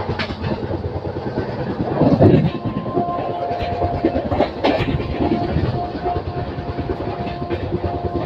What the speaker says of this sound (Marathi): गाडी आता स्किप करत आहे आणि समोरून गाडी पण येत आहे